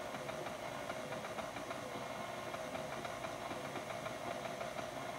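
Electric mixer running on low speed, blending flour into German's sweet chocolate cake batter, a steady mechanical whirring hum with faint rhythmic beater rattle, continuous and even throughout.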